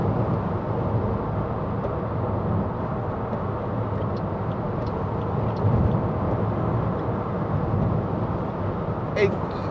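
Steady low road and engine drone inside a 2014 Toyota Aygo 1.0 VVT-i cruising at 70 mph in fifth gear, a constant rumble with no talking over it.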